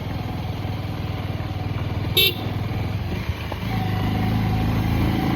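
A motorcycle engine drones steadily on a rough uphill road, close and fairly loud, with a brief horn toot partway through and the engine note rising toward the end.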